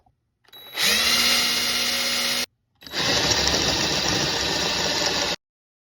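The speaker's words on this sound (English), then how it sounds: "Let's drill it." A power drill whines at high speed in two bursts separated by a brief stop, loud and close, the second run sounding grittier as it bites into the metal panel of a Heathkit SB radio.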